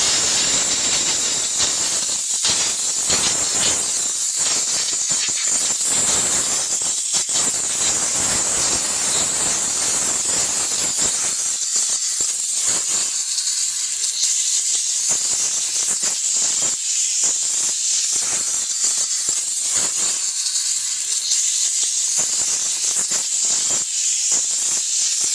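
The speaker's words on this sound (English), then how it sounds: "we'll just steam it without using any cleaner" A JNX-3000 car interior steam cleaner blasts steam into a cup holder with no cleaning product added, a loud sharp hiss that spurts and pauses in bursts, then runs in steadier jets with brief gaps.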